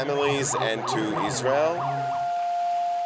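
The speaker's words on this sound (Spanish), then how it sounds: "Benjamín Netanyahu en Jerusalén, al sonido de sirenas conmemorativas" Memorial sirens sound in Jerusalem near the Israeli prime minister's residence during a protest, a loud wailing rise-and-fall tone that repeats several times, then settles into a steady held pitch.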